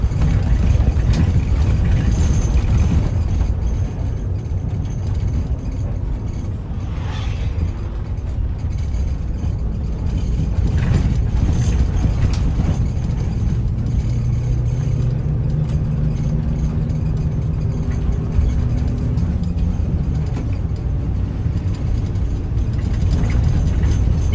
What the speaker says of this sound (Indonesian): bodi bus ini sudah cukup tua, jadi ya harap maklum, cukup berisik untuk interior di dalamnya